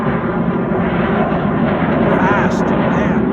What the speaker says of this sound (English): Here's another fighter jet.